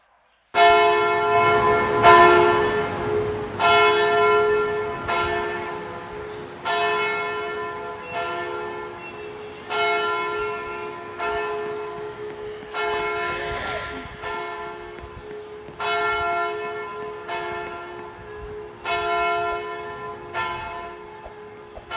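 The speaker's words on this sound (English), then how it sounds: "This is the bell." A church bell at the San Antonio church tolls loud and close, struck in a steady rhythm about every one and a half seconds, each ringing tone sustaining into the next with no talk over it.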